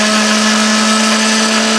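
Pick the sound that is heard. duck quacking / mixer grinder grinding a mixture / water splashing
mixer grinder grinding a mixture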